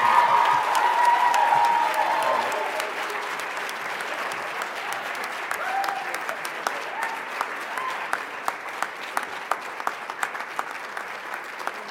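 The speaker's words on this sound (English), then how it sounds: "So please, please clap as loud as you can for Tanya Lofton." An awards banquet audience applauds loudly. The clapping is dense and sustained at first, then thins to scattered individual claps over several seconds.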